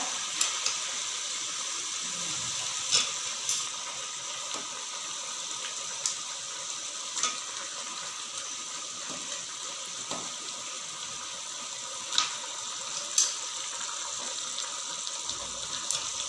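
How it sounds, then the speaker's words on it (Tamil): Water runs and splashes steadily as raw meat is rinsed with turmeric in a kitchen, with occasional sharp clinks and knocks against the container. "மஞ்சத்தூள் போட்டு கழுவி அலசி வச்சுக்கிறேன்"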